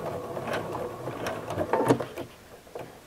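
A sewing machine stitches binding on a flower appliqué pot holder, its needle running in a steady close mechanical patter with a few irregular clicks and bumps as the fabric is guided.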